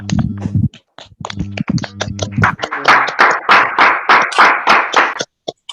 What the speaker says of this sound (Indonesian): bisa tepuk tangan virtual dulu buat kita semua ya